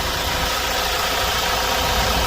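A used commercial vehicle's engine idles with its engine room opened under a lifted seat, a steady dense mechanical rumble and hum heard up close with no break.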